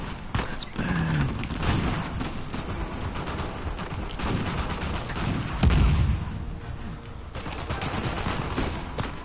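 Heavy gunfire in the video game Uncharted 4, with dense overlapping shots and booming blasts close by, continuing throughout and swelling into a louder blast partway through.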